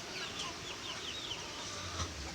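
Tiger chickens cluck softly in hot weather on a village farm, faint scattered calls over a steady background hum.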